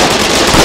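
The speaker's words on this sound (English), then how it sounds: "Charge grenade!" A charge grenade bursts in the war game Foxhole, giving a single loud, close, crackling explosion that fills the whole short moment.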